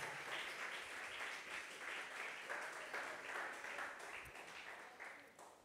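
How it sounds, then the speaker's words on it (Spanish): Church congregation breaking into sustained applause, a dense wash of many hands clapping steadily for several seconds, swelling slightly and then tapering near the end. "¿Alguien le da una ofrenda de aplauso al Señor Jesús antes de sentarse?"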